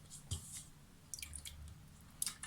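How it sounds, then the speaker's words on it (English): Chicken pieces lifted out of a turmeric and salt brine, giving a few soft, close wet drips and squishes of liquid in an otherwise quiet kitchen. "But then, you pull them out of the brine like this."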